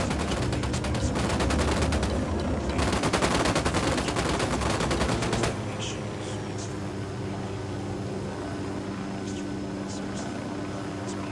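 Rapid automatic gunfire from the video game Ghost Recon Wildlands rattles loud and dense for about five seconds, then gives way to a quieter, steady game background.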